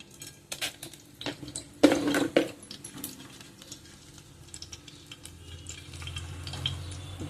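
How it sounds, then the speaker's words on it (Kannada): Spices frying in a pan for a Mangalore-style potato and drumstick gravy, with metal utensil clatter and stirring scrapes, a loud clang near two seconds, then a low steady sizzle. "ಫ್ರೈ ಆಗಲಿ ಚೆನ್ನಾಗಿ."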